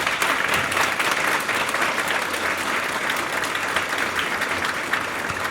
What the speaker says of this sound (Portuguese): Podemos aplaudir o homenageado dessa noite?